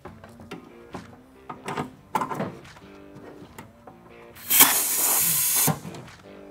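A few knocks and clicks, then a loud, sharp hiss of blasting air bursts from a spark plug cleaner for about a second and cuts off.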